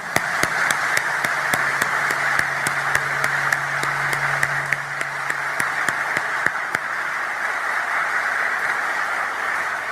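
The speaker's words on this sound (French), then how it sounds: "Célébrons cette attraction mutuelle par un applaudissement qui jaillit du cœur." An audience at a formal gathering applauds steadily with sustained, dense clapping, a low hum beneath and a few sharper claps standing out, fading slightly toward the end.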